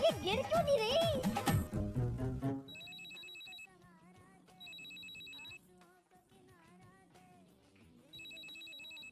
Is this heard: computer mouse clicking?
no